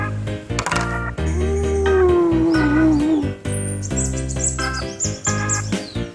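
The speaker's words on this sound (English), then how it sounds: "Eagle." A toy eagle's cry rises over bright, busy children's cartoon music: a drawn-out, wavering high call followed by shorter chirping tweets, loud and close.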